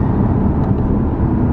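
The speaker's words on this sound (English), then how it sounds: "It's hard to hear it, but the downshifts are so crisp." A 467 hp Lexus RC F engine accelerating with quick downshifts in pedal shift mode, heard from inside the car. A loud, dense, continuous drone of engine and road noise.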